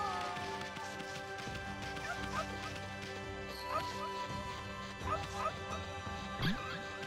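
A dog in the video game Okami HD, with repeated short barks and yips and a few whimpers, moderately close, layered over steady game music.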